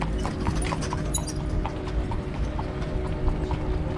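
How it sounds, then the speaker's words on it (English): A horse pulling a cart clip-clops along a street in Chania, Crete, its hooves striking in a steady, fairly close rhythm over low street noise. "Oh, where we have a horse and cart here."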